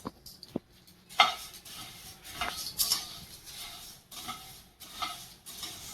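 Puffed rice (borugulu) tossed and stirred in a pan as it dry-fries, giving a steady rustling sizzle broken by a few sharper scrapes and clinks of the spoon against the metal.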